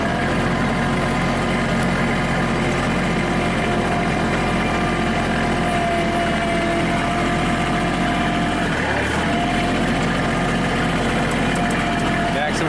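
A Kubota tractor engine runs steadily while the tractor is driven, a loud, continuous low drone with a constant mechanical hum, and a brief dip in the sound near the end.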